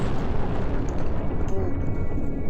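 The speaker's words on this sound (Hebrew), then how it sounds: "עכשיו כל הכדור עומד להתפוצץ" A ball explodes in a video game, a loud sustained rumbling blast with heavy low-end roar that fills the whole stretch without letup.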